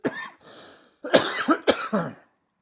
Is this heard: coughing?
yes